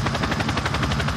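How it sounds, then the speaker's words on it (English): A chopper gunner helicopter in a video game fires continuously, giving a loud, dense, rapid pulsing roar of automatic gunfire blended with rotor noise. "My chopper gunner wasn't a complete failure."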